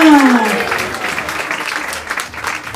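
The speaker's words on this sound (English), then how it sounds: "Please give them another round of applause." An audience applauding children after a drama at a Gaura Purnima celebration, continuous clapping from a crowd that opens under a voice and runs on steadily.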